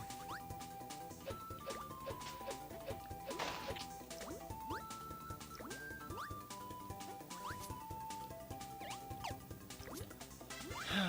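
Water sound effects in the video game Kirby 64 play on a watery stage: a steady bed of bubbling, dripping plinks with small sliding tones, faint and continuous under game music notes.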